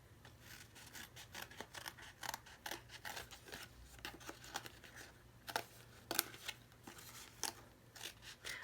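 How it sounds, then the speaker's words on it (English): Scissors snip through release paper in a crafting session, a quick series of close, faint crisp cuts and rustles in an irregular rhythm, with no talk. "I'm just going to cut the release paper on the bottom part"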